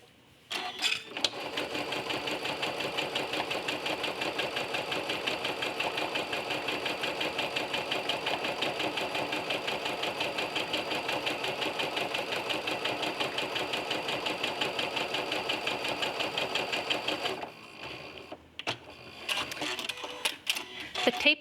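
A sewing machine fitted with a walking foot stitches a quilting line along a tape guide in a fast, even mechanical chatter for about seventeen seconds, then stops, followed by a few faint handling clicks.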